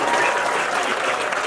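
A wedding audience gives a brief, steady burst of loud, dense applause that fills the room evenly from start to finish.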